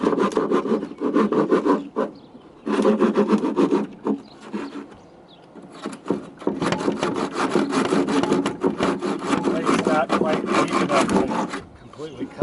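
A power saw cuts through wooden floor joists on a framing job, rasping loudly and almost without pause, its whine easing briefly twice before biting back into the lumber.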